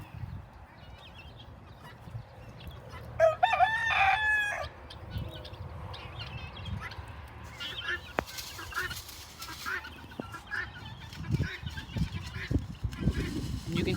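Guinea fowl call outdoors near a garden bed being seeded with kale and turnips. A loud burst of harsh, rattling cries comes about a third of the way in, followed by fainter scattered calls and low rustling.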